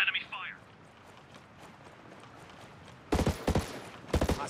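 Enemy gunfire in the video game Ghost Recon Breakpoint cracks out in two loud, close bursts of quick shots near the end, after a brief tone and a quieter stretch of game ambience.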